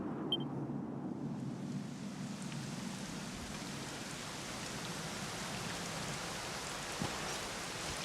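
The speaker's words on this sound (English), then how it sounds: "it was raining like this" Steady, dense rainfall hissing continuously in Dragon Quest XI S, with a soft low rumble underneath and no voices.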